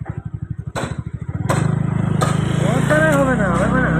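Small motor vehicle driven by a learner, starting as a close, rhythmic putter that smooths into a steady engine drone, with people talking over it.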